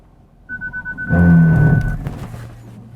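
A steady electronic warning tone sounds inside a car travelling about 15 mph as its automatic braking system alerts, joined by a rhythmic pulsing then a loud low rumble and whoosh of the vehicle braking, fading to quiet cabin hum.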